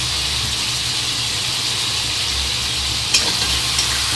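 Spices in a pan of hot oil for a Bengali fish curry give a steady soft sizzle and hiss throughout, with a low hum underneath and one brief clink near the end.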